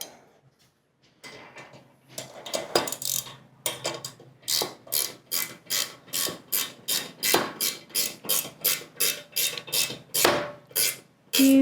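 A wrench ratchets in a steady close series of sharp clicks while tightening nuts and lock washers on a Go Power Sports Rascal GT cruiser, the strokes coming evenly after some scattered handling noises at the start.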